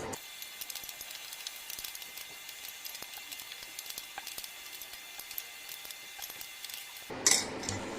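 Sesame seeds dry-roasting in a pan after a spoonful of water, stirred with a spoon, giving a faint steady sizzle with light scraping ticks throughout and a louder clatter near the end.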